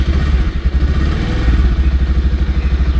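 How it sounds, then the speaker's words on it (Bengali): Bajaj Pulsar 150 BS6 motorcycle engine running close by, a steady low rhythmic idle thrum with a loud, even mechanical pulse and no talk. "এবার প্রথমে যেটা করবে, তুমি বাইকটা স্টার্ট করবে।"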